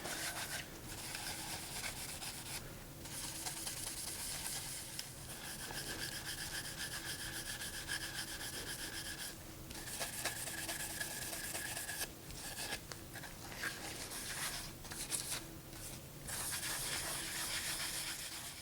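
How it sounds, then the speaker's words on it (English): Superfine synthetic steel wool rubs wax into the finish of a French fitted presentation box, a steady, close scrubbing hiss with brief pauses between strokes, heard alone throughout. "I'll really rub the wax in."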